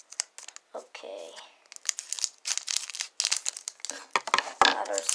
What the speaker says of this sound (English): Now we'll open one of the Vivid Voltage packs.